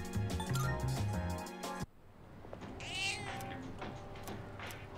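A cat in the video game Persona 3 Reload meows clearly, a short high cry heard after game music cuts off, then fainter sounds and background tones.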